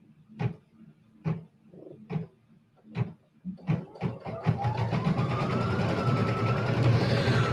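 Sewing machine quilting the border of a bench pillow, starting with a few separate clunks and short stitching bursts, then settling into a steady fast close-up whirring run that continues to the end.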